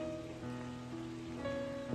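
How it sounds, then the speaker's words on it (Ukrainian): Steady rain falls outdoors among flowering plants, a continuous soft hiss of drops with faint tonal hum beneath, no voices. "Дочекались ми дощика."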